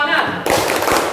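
A room of teachers at an Indonesian training session beat out a short rhythmic group clap, a few sharp claps in a quick pattern mixed with voices.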